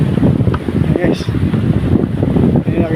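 Steady wind rumbles and gusts close to the microphone high up among coconut trees, with voices talking over it throughout.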